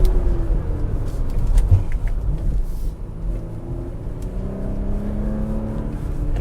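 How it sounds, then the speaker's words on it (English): The turbocharged V6 of a 2021 Audi SQ5 Sportback pulls hard from inside the cabin, a steady low rumble with rising tones as it accelerates through the gears, no voices over it. "this noise here is just what Audi can make out of the V6"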